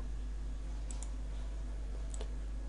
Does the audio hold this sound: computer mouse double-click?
yes